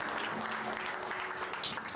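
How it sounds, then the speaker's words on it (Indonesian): A church congregation claps throughout, a dense, steady wash of applause that fills the whole short stretch with no break and no voices on top. "Berikan tepuk tanganmu yang terbaik."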